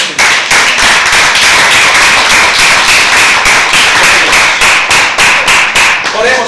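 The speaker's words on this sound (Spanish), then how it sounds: "Démosle un aplauso al Señor." A church congregation claps together in praise, a dense, loud, steady stream of hand claps with a regular pulsing rhythm filling the whole stretch.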